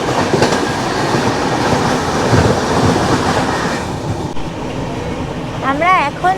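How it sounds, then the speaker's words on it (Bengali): Another train passing close by during a train journey past Chilika Lake on the Kolkata to Chennai route, with a steady rumbling rattle of wheels on track and a brief warbling horn or squeal near the end. "একটা ট্রেন ক্রস করছে।"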